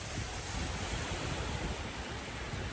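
Ocean surf at Lantana Municipal Beach, Florida, makes a continuous broad wash of noise with steady low rumble and some wind buffeting on the microphone, with no distinct individual wave breaks.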